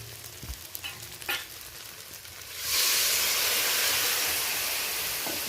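Spices stirred and fried in a pan: soft sizzling with a few spoon knocks at first, then a sudden loud steamy hiss surges up and holds steady to the end, with no voices.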